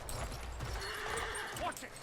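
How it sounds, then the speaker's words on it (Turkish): A horse in the video game Battlefield 1 whinnies with a rising cry near the end, over continuous galloping hoofbeats and game ambience. "Bu arada atın sesi de bayağı iyi."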